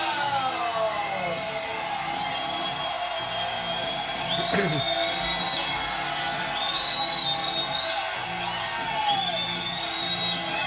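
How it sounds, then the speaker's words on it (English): A large wrestling arena crowd at TNA Destination X cheers and yells for new champion AJ Styles, a dense continuous roar with scattered whoops, steady and loud throughout. "Soak in the plaudits of the crowd."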